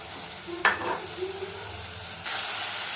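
Onions with kasuri methi sizzle in a pan for palak paneer rice, a sudden loud hiss as the leaves go in, then steady close frying that swells again near the end.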